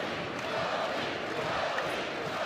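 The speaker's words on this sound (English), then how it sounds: "Crowd's getting behind Merrill here." A college wrestling crowd at an Oklahoma vs Oklahoma State dual cheers and shouts in a steady, diffuse roar behind a wrestler named Merrill, moderately loud and sustained.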